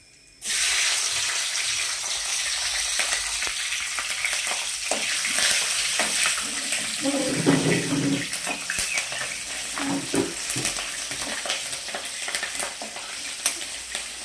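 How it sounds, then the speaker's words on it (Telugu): Cumin, mustard seeds and green chillies drop into hot oil for a dried fish and tender tamarind leaf curry, bursting into a sudden loud sizzle that carries on with popping and spitting, close by and unbroken by speech. "కొంచెం జీలకర్ర వేస్తామండి, కొన్ని ఆవాలు వేస్తాను, ఇప్పుడు పచ్చిమిర్చి వేస్తాను."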